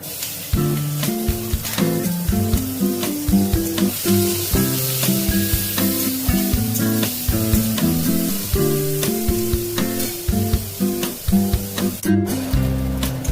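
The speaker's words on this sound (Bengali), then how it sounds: "ওই তেলের মধ্যেই আমি এই চিংড়ি মাছটা ভেজে নেব।" Prawns fry in hot oil in a wok, giving a steady, continuous sizzle that runs under louder background music throughout.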